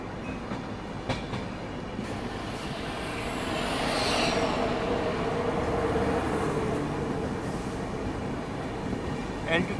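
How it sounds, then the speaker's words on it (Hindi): An LTT Madgaon Express passenger train passes during a crossing on an Indian railway line, a steady rumbling roll with faint wheel clatter that swells toward the middle and fades, with brief high squeals. "यहाँ पे तो किसी पैसेंजर ट्रेन के साथ अपनी क्रॉसिंग हो रही है।"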